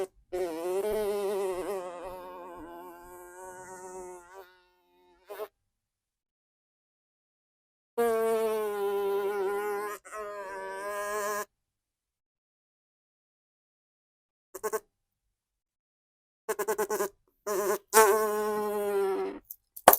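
A mimicry artist imitates a common housefly with his voice, producing close, loud buzzing bursts with wavering pitch, separated by silent pauses and a few short buzzes toward the end; no talking.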